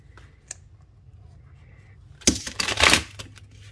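A deck of tarot cards is shuffled by hand: one small tap early, then a brisk, close riffle of crackling card flutter in two quick bursts near the end, otherwise quiet.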